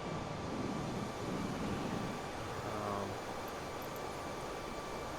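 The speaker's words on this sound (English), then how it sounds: "So I finally understand how to take off with this plane and establish a nice little cruising altitude." An airplane engine drones steadily in Flight Simulator while the plane cruises at altitude, a broad continuous rumble at an even level throughout.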